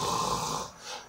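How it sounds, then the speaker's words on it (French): A man snores once, a single close, rough inhaled rasp that fades into a quieter breath. "Pierre ronflait."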